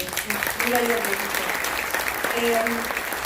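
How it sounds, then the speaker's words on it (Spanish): Applause from a crowd at a book presentation in Chicago, steady clapping throughout with voices speaking over it in brief stretches. "Sí, un aplauso, compañero."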